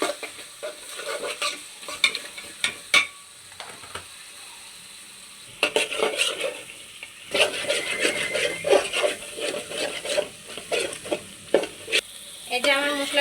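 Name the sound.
spice paste sizzling as it is sautéed for biryani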